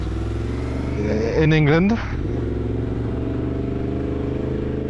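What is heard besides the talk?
Yamaha MT-10 motorcycle engine while riding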